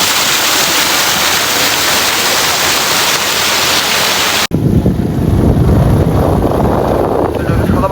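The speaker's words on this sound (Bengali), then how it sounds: "এই হচ্ছে ঝর্ণা।" A waterfall near Tanguar Haor, with cool fresh water where visitors rinse their hands and faces, gives a loud, steady rushing roar. Its character shifts abruptly midway, as if heard from a new spot, and it stays dense and continuous throughout.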